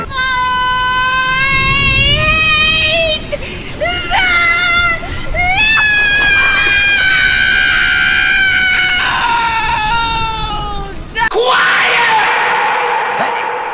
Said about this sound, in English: she must have a lot of lung capacity to scream that